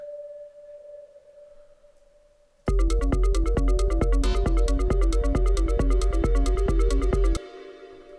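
A synthesized electronic tone from Ableton's Operator synth plays alone: a quiet sustained hum first, then a loud pulsing, repeating sequence of bright tones for several seconds before cutting off.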